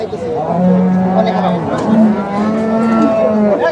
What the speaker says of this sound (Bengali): বলতে গেলে এখানে বোঝা যায় যে গরুর মেলা